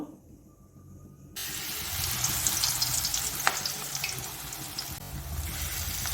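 Pointed gourd (palta) leaf pakoras frying in oil, starting with a short quiet stretch before a loud, bubbling sizzle surges in and keeps going steadily, with a few sharp crackles close by.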